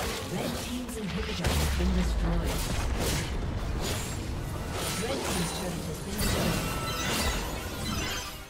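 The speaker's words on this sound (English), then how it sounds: "Red team's inhibitor has been destroyed." An inhibitor being destroyed in a League of Legends match: loud crashes and shattering impacts with booming hits and whooshes layered over busy game action, while a voice speaks over the din.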